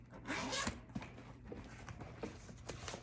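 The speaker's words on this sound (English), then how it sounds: "Now all we have to do is zip it up." A zipper on a vendor display bag for jewelry and accessories is pulled closed in one steady, close zip lasting about a second, followed by quieter handling rustles and soft taps.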